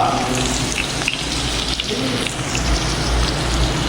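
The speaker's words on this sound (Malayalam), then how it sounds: "അപ്പൊ വെളിച്ചെണ്ണ നന്നായിട്ട് ചൂടായിട്ടുണ്ട്. ഞാൻ ഉള്ളിടാൻ പോവാണ്, ശ്രദ്ധിക്കാം." Onions dropped into hot coconut oil for a fish and pumpkin curry, a loud, dense, close sizzle crackling steadily throughout without pause or talk.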